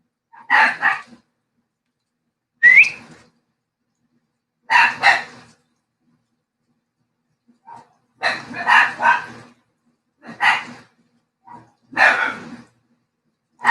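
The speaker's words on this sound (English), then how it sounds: "sorry about the dogs barking" Small Chihuahua dogs barking indoors in repeated short bursts and yips, several barks in clusters separated by brief pauses, fairly close and loud with no talk.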